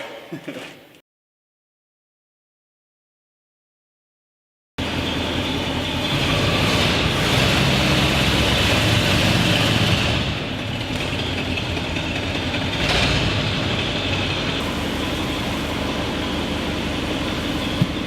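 Ford F250 engine idling roughly with a misfire, a loud close steady rumble with uneven pulsing, preceded by a brief gap of silence.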